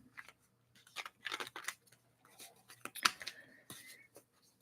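A deck of tarot cards is shuffled by hand, giving quiet bursts of papery riffling and flicking in short, uneven spurts, close and soft, with no one speaking.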